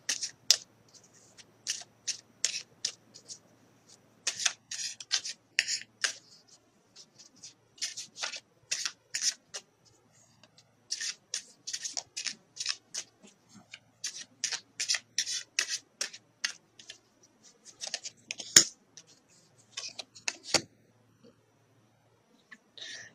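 Tarot cards shuffled and drawn up close: irregular bursts of soft papery riffling and rubbing separated by quiet gaps, with a couple of sharp card snaps near the end, no talking.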